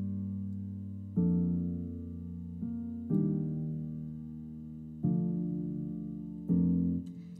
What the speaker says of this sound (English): And for the chords, I'm using a Labs piano